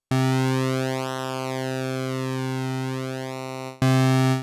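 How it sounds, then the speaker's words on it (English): An analogue-style synthesiser plays a pulse wave bass tone, one sustained buzzy nasal note whose timbre sweeps as the width shifts, loud and alone, ending with a brief restart. "A pulse wave's character is a biting yet quite nasal sound, suitable for thinner types of bass and lead."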